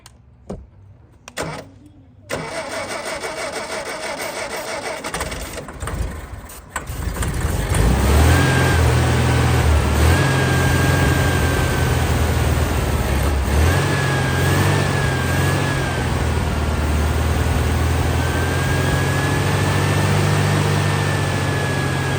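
A 1959 Volkswagen Beetle engine cranks in sputtering bursts, then catches and settles into a loud, steady running idle close by for the remaining fifteen seconds.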